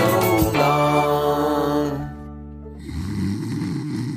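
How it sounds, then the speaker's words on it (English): Loud, close snoring with a long, droning, buzzy inhalation that fades into softer, rougher breathing noise, with no talk over it. "You're going to snore some more now"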